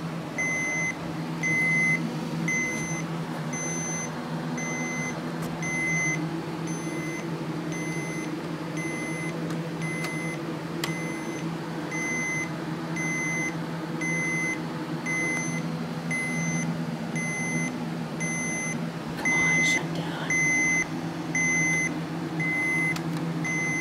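During a power outage a system beeper sounds a high, thin tone in regular short pulses, repeating steadily throughout over a low electrical hum.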